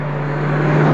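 A vehicle engine rumbles with a steady low hum, growing slightly louder over one second as it moves past nearby.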